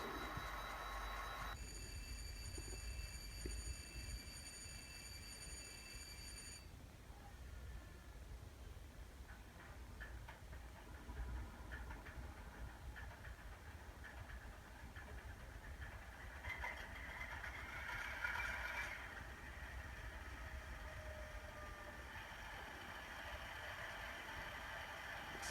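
A GE 7FDL16 diesel prime mover sound from a Tsunami2 decoder in an N scale Kato Alco PA1 model locomotive idles in a low, steady rumble, with a brief higher whine partway through.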